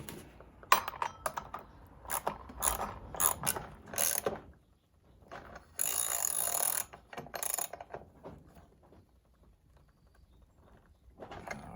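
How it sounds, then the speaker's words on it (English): Driver tightening the blade nut on a Stihl FS55 RC string trimmer: rapid ratcheting clicks in uneven bursts, close and fairly quiet, with gaps of near silence between turns. "So we're going to slide our driver back in here and tighten it down."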